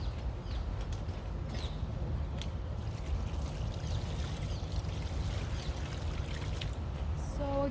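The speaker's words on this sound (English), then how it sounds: "let's put this water around" Water poured around bougainvillea and other plants in wet garden soil: a steady trickling pour under low outdoor rumble, continuous for several seconds with faint birds in the background.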